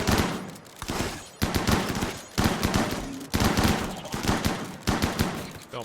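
Gunfire shooting at bug hives in a video game, rapid automatic bursts of loud close shots in repeated volleys with brief gaps between them, no voices over the firing.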